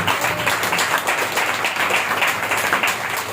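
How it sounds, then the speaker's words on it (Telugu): A church congregation claps during a sermon, a dense, steady burst of applause lasting the whole moment with no voice over it. "వట్టాలు చప్పట్లు"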